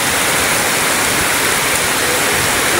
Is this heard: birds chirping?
no